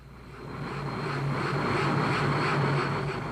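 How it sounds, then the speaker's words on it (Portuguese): Helicopter flying over green landscape near a small town outside Abidjan, a steady loud rotor and engine drone that builds slightly, heard alone without voices. "O helicóptero sobrevoa a paisagem verde até uma pequena cidade ao lado de Abidjan."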